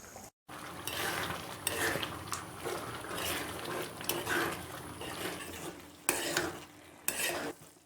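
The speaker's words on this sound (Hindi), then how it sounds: "अब तकरीबन हम इसको 10 से 12 मिनट अच्छे तरीके से भूनेंगे ताकि ऑयल सेपरेट हो जाए।" Beef with fresh cream stir-fried bhuna style in a kadai for karahi gosht, a steady close sizzle and frying hiss with repeated scraping and stirring strokes of a spoon against the pan.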